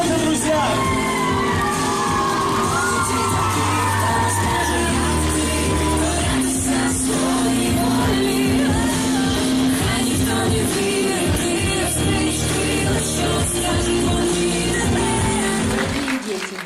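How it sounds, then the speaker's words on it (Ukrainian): An audience at a children's ensemble's 40th anniversary concert applauds and cheers, a dense continuous wash of crowd noise and shouts with a music-like tone running underneath. "Аплодисменты, друзья!"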